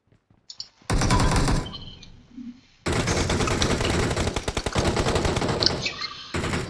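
Loud automatic gunfire rattles in two long, rapid bursts in PUBG Mobile, separated by a brief pause with a few softer game sounds, then a short final volley.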